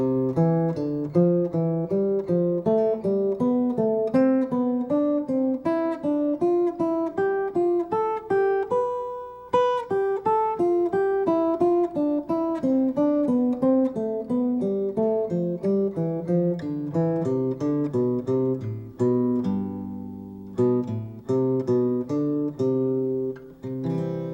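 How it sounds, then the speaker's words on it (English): Plucked acoustic guitar notes play a steady, continuous diatonic thirds sequence, paired intervals climbing and descending a scale, clear and close with even rhythm throughout. "This is a diatonic thirds sequence."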